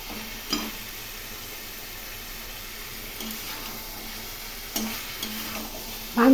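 Chicken pieces braised with chilli powder and fried potatoes in a frying pan sizzle softly while a spoon scrapes and stirs in a few distinct strokes, the pan otherwise quiet and close, with no talking.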